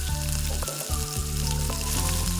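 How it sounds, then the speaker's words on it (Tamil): Turkey berries with garlic and tamarind sauté in a hot pan for sundakkai chutney, a close, steady sizzle and crackle with light stirring scrapes throughout. "இதையும் போட்டு நல்லா நம்ம வதக்கிக்கலாம்"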